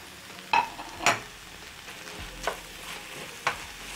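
Noodles with coriander are stirred in a frying pan: a soft, low sizzle runs throughout, punctuated by a few sharp scrapes and clinks of the utensil against the pan, with no talking.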